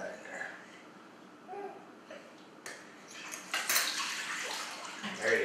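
Two cups of water are poured into a crock pot for carnitas. A splashing pour with faint clinks builds through the second half, after quieter kitchen sounds and voices talking at the start.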